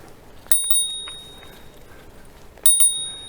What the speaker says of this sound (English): I'll just ring my bell here.